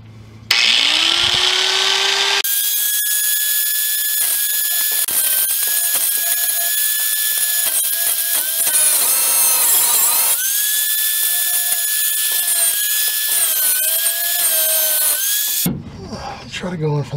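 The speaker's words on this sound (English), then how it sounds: "I just went inside and got my grinder. I'm just going to try zipping this off." An angle grinder cuts off a rear shock bolt on a Ford F150, spinning up and then whining loudly and steadily at close range for about thirteen seconds, its pitch dipping under load, before stopping.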